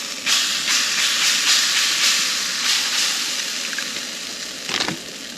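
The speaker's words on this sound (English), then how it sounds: "cook the eggs." Eggs fry in a pan while car camping in winter, giving a loud, steady sizzling hiss with brief bursts of crackle and a short clatter near the end. No one speaks.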